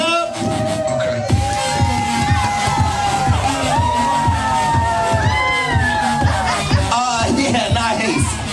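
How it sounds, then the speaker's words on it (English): A loud crowd at a rainy-day celebration at the Dutch Wonderland amusement park cheers and claps without a break, with children's high-pitched shouts and whoops rising above the steady roar. "Ladies and gentlemen, give yourselves a big round of applause."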